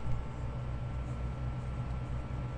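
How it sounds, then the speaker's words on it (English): An Amana PTAC air conditioner runs on high fan speed, a steady close hum and whoosh of moving air with a low motor drone that holds unchanged throughout and no speech. "high fan speed."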